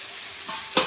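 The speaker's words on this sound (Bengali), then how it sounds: "এখন আমি এঁচোড়ে আর আলুগুলো দিয়ে দেব।" Jackfruit and potato pieces drop into spices frying in oil for a home-style jackfruit curry, a brief sizzle that swells sharply near the end as they hit the pan.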